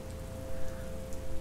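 Steady rain falls close by, a dense, even patter that continues without pause under a faint low hum.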